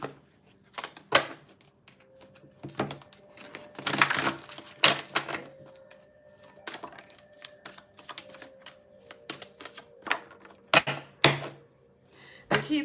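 Tarot cards are shuffled in irregular papery bursts with short riffles and taps, one longer flurry standing out, all close and fairly quiet, with a faint steady tone in the background.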